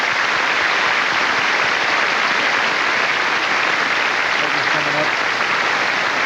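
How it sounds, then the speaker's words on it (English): Audience applause at the 1993 NHL Awards show for the co-hosts, a loud, unbroken roar of clapping from a large crowd with a few voices rising in it near the end. "would you join me in a round of applause for our co-hosts tonight, Phil Esposito, Brett Hull, and Doug Gilmour"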